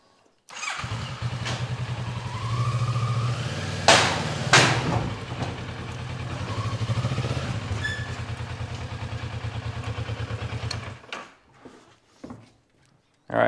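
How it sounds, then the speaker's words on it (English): Motorcycle engine idling steadily at close range while the bike is rolled onto a Harbor Freight wheel chock, with a couple of sharp metallic clunks and knocks midway, before the engine cuts off near the end. "I'll throw the bike on and show you."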